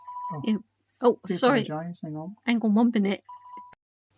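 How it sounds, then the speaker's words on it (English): A telephone rings with a steady electronic tone, heard briefly at the start and again near the end, while a person talks over it during a radio music show. "That was a phone call"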